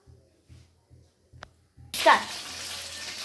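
Washed curry leaves dropped into hot oil for a duck fry, a sudden loud crackling sizzle bursting in after a few soft thumps and a brief click, then settling into steady hiss.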